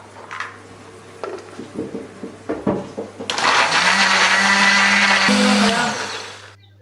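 A blender grinds a paste of chili, candlenut, turmeric, shallots and garlic with a little water. A few short pulses and knocks come first, then the motor runs loud and steady for about three seconds before winding down.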